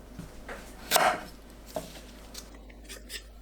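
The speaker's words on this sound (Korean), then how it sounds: "애호박 양 끝을 자릅니다." A knife chops through the ends of a Korean zucchini on a cutting board, giving a few distinct cuts, with one sharp, loud strike and several softer taps. The sound is close and carries no speech.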